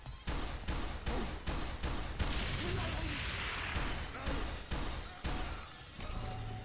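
Video game gunfire from a weak pop gun in F.E.A.R. 3: rapid repeated sharp shots in a steady volley over dense in-game combat noise, loud and close.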